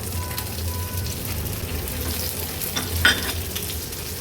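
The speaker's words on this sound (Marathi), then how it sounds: "लो फ्लेमवरच व्यवस्थित मिरची आपल्याला परतून घ्यायची आहे मिरची तेलावर परतून झाले की हे उकडलेले बटाटे ऍड करूया" Green chilies and boiled potatoes frying in oil over a low flame, giving a soft, continuous sizzle up close with a faint stir and one brief clink near the end. No one speaks.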